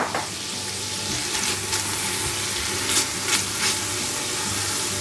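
Onions, garlic and red peppers frying in a pan for chili con carne, giving a continuous close, loud sizzle with a few sharper crackling bursts and no talk.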